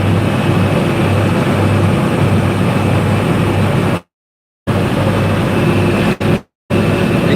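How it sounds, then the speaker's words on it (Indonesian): A ship's engine runs close by at sea off Sibolga, a loud, constant low rumbling drone that fills the space and briefly cuts out twice. "Di sini agak berisik Bapak Ibu, karena kita dekat mesin kapalnya."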